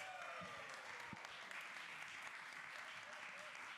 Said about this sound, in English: Let's give them another round of applause, please.